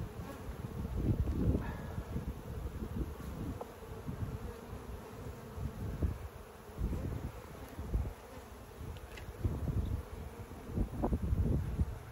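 Honeybees buzz around an open hive in a close, droning hum that swells and fades as individual bees pass near, with occasional rustling and no talking.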